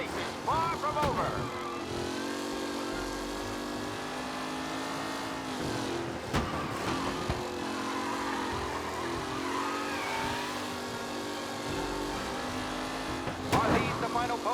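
Race car engines drone loudly during a race in Mafia: Definitive Edition, holding a sustained high-pitched whine with shifting pitch and occasional sharp bursts as cars pass, while a voice talks over the roar.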